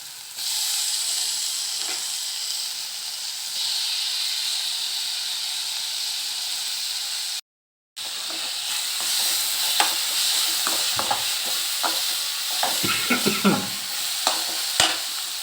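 Tomatoes and onions fry with a loud steady hiss in a hot pan for egg podimas, joined by clinks and scrapes of stirring that grow busier toward the end, with a brief silent break.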